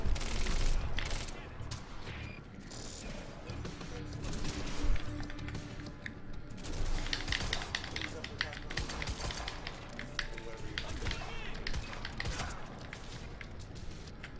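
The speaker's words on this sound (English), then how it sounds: "Busy shooting people." Rapid gunfire bursts in the shooter game Quantum Break, dense and continuous crackling shots mixed with impacts throughout, with people talking over the action.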